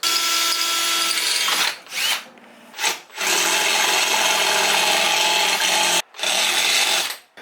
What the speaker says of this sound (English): Drill a pilot hole real quick.